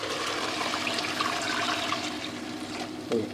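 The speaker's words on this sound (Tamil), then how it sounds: "அந்த தண்ணி வந்து ஊற்றிடுறேன்" Water is poured into a pot to cook green peas rice, a continuous splashing flow that runs steadily throughout and ends with a brief louder gurgle.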